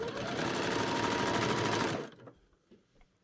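A sewing machine runs a straight stitch joining a skirt to a bodice, a loud steady rapid whirr for about two seconds before stopping, followed by faint handling noises.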